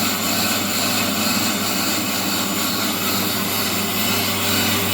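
A brake lathe machines a warped brake rotor on a Triton, giving a steady, continuous mechanical whirr and hiss with a constant low hum that holds level throughout.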